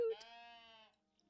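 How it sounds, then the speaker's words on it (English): A single drawn-out sheep bleat in a cozy video game, tonal and wavering, sounds close and moderately loud before cutting off into near silence. "The sheep is screaming at me!"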